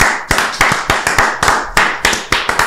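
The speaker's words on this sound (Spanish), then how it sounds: "Un aplauso para esa gente" Separate loud hand claps from an audience at a music event, roughly a dozen irregular sharp claps close by with brief gaps, no voices.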